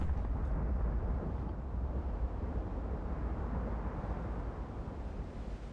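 Naval gun volley firing in the Ultimate Admiral Dreadnoughts warship game: a loud, dense low rumble that swells at the start and rolls on steadily, slowly fading, with no voices over it.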